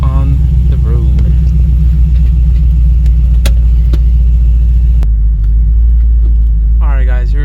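Chevrolet Camaro driving on the road, its engine a loud, close, steady low rumble throughout, with a person talking briefly at the start and again near the end.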